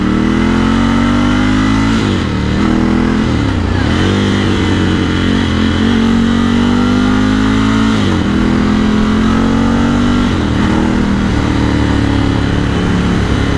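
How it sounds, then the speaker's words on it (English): A Ducati Scrambler 1100 Sport motorcycle idles and revs with a loud, close, continuous engine drone. The throttle is blipped repeatedly and the exhaust gargles and pops between revs, with no voices. "just listen to this bike. Just listen to those gargles and splits."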